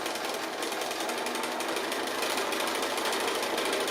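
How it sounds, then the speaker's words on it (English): A sewing machine stitches appliqué in one steady, continuous run, a fast close-up mechanical whir with rapid needle clatter at even loudness throughout, with no voices. "I'm going to stitch it all the way up, and then I'm going to stitch it all the way back down again"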